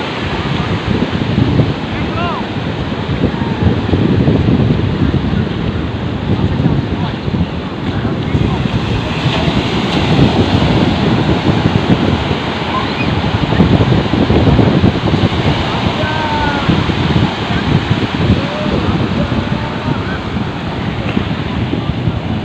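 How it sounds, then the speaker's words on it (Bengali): Rough surf at Cox's Bazar beach in the morning, the sea choppy after overnight rain, rolls in as a steady, loud roar of breaking waves mixed with wind buffeting the microphone throughout. "ঢেউগুলো অনেক বড়, উত্তাল সাগর।"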